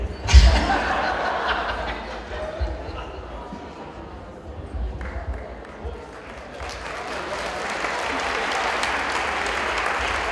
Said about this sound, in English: Let's give a big round of applause one more time.